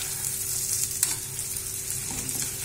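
Lightly fried onion and drained boiled red beans are stirred together in a hot pan, giving a steady close sizzle with occasional scraping of the spoon against the pan.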